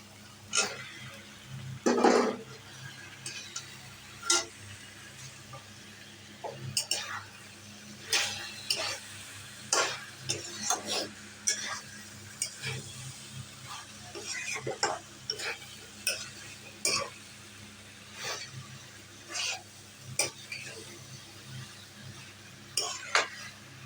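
Young jackfruit and potato are stirred into fried spice paste in a pot, a long run of close, rhythmic metal scrapes and clinks with a soft sizzle underneath over steady low background noise.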